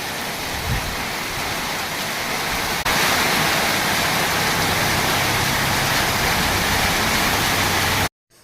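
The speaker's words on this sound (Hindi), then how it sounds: "फिर देखिए कितनी तेज़ से बारिश हो रही थी" Heavy rain pours down steadily on a hot day, a dense, loud hiss that jumps louder about a third of the way in and then holds until it cuts off abruptly near the end, with no one talking.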